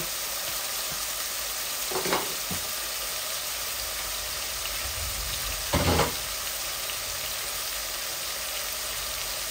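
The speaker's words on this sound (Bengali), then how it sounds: "এখন আমি পেঁয়াজ দিয়ে দিচ্ছি আমার পরিমাণ মতো।" Onions fry in a pan with a steady, even hiss of sizzling oil, broken by two brief clanks of stirring.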